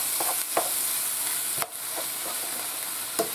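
Ground beef browning in a pan for a hamburger bean casserole sizzles evenly and closely, broken by a few brief scrape or stir knocks.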